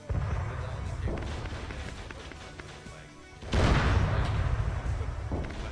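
Arma 3 World War 1 artillery cannon fire booms out, with heavy blasts and crashing debris; a louder burst of explosions hits about midway and keeps rumbling to the end.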